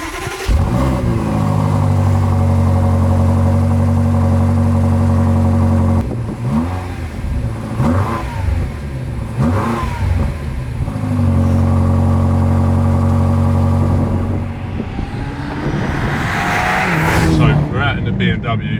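BMW M5 Competition with a twin-turbo V8 driving, its loud engine revving and pulling through repeated rises and gear changes, close and sustained, with someone talking over it.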